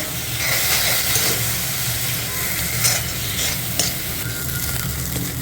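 Onions with whole cumin seeds sauté in a kadai for kadai chicken, giving a continuous close sizzle and hiss with occasional stirring scrapes and no talking.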